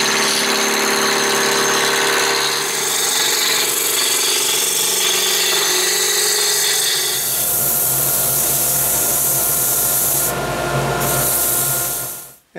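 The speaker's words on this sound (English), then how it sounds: "I'm going to take them over to the lathe and turn them down to 1 1/8 inch diameter" A wooden vise handle for a traditional workbench spins on a lathe while being turned down to diameter, a loud continuous whirring motor with scraping, rasping cutting noise that runs steadily before winding down at the end.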